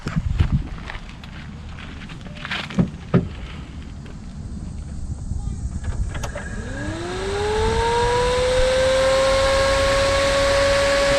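Supercharged and turbocharged G8 engine fires up on a dyno after a few clicks and knocks, then runs loud and steady with a rising whine that holds at a high idle.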